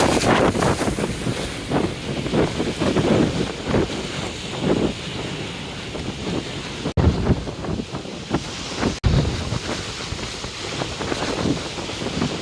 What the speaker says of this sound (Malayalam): അടുത്ത തിരമാല വരുന്നുണ്ട്